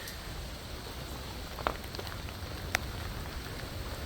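Steady rain falls on surfaces outside under a porch during a spring storm, a continuous close patter with a couple of sharper individual drop hits standing out, and no talking.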